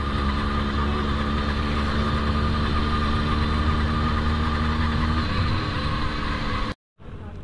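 Yamaha RX 100 motorcycle engine running steadily and loud while riding on a long highway ride, a continuous droning hum that cuts off abruptly near the end before resuming.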